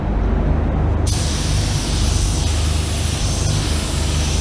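A Segola 4600 spray gun sprays garbage-can grey paint onto a car fender in a loud, steady, continuous hiss of atomizing air that holds level throughout, close up with no voices.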